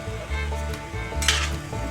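Egg curry masala stirred in a pan during oil-free cooking, a soft sizzle with scraping utensil strokes repeating in a steady rhythm, close and moderately loud, no voices.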